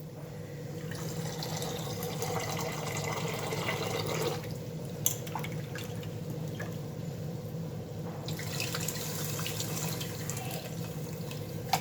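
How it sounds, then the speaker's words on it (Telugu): Boiled chana dal water being poured into a cooking pot, a continuous liquid trickle and splash lasting several seconds over a steady kitchen hum, with a couple of faint clinks. "శనగపప్పు ఉడికించిన నీళ్లు పోసేస్తున్నాను"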